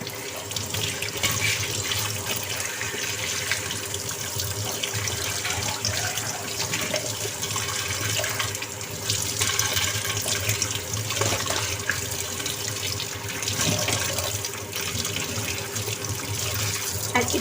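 Tap water runs steadily into a sink while a conch shell is rinsed, a constant close splashing rush with small shifts as the shell moves under the stream, no talking.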